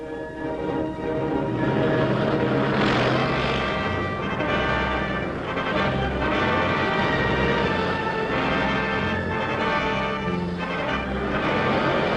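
Droning piston engines of WW2 USAF bombers heading out over Western Europe in 1943, a dense continuous roar with a layered, pulsing hum that stays loud and steady throughout.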